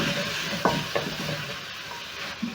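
Carrots and tomatoes are stirred into seared beef short ribs in a hot pot, with a soft sizzle under a couple of quick scraping spoon strokes, close and brief with no talk.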